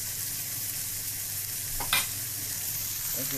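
Leftover curry of cabbage, beans, potato and pumpkin is reheated in a pan, giving a constant soft sizzle with one brief scraping stir in the middle, close and steady, no voices.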